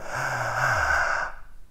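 Open-mouth breath drawn deep into the belly: one long, airy inhalation at close range lasting over a second, then trailing off into silence, with no talking.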